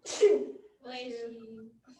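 A single sharp sneeze followed by a brief voiced sound, close and fairly loud.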